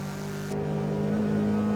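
A stock Toyota GR86 boxer engine in Forza Horizon 5 holds a steady drone and its pitch rises a little, with no talking over it.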